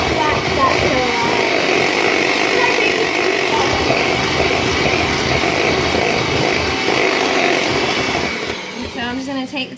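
An electric mixer beats cookie batter for black and white cookies in a home kitchen, a loud steady motor whir running nearly ten seconds before tapering at the end, with voices murmuring beneath it.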